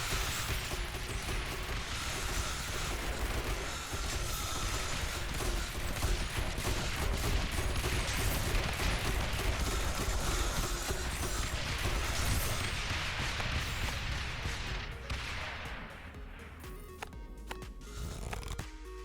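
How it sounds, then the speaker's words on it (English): Particle cannons fire continuously in the tower defense game Rogue Tower, a dense, crackling barrage of rapid shots and mechanical clatter that stays loud and busy before thinning out toward the end. "Ooh, particle cannons."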